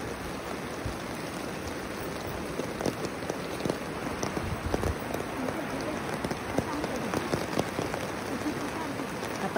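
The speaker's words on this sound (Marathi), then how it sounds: "गावाकडचं वातावरण आणि पाऊस" Steady rain falls over village countryside, a soft continuous patter with faint drips throughout, and a voice speaks quietly under it.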